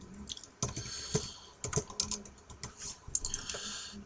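Irregular bursts of typing on a computer keyboard while a website article is written, with clustered keystrokes and short pauses, close and fairly quiet with no voices.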